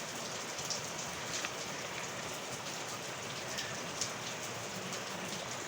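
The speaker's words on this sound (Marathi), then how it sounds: "पाऊस थांबतो का नाही थांबतो" Steady rain falls on a village in monsoon season, an even, unbroken hiss of drops on surfaces with occasional louder drips, heard alone at moderate distance with no voices.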